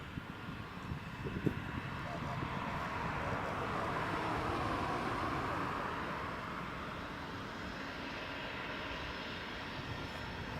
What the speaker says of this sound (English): Aer Lingus is just pushing back there as well, Aer Lingus ATR.